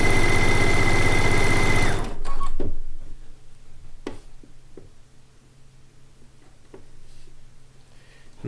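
A sewing machine runs a fast, steady, loud stitching whir for about two seconds while joining a log cabin quilt block seam, then stops, leaving faint handling clicks and soft thumps in a quiet room.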